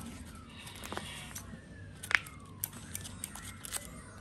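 Dull scissors snip at something in a quiet room, giving a few faint, brief clicks with one sharper cut standing out midway, set against low background hum.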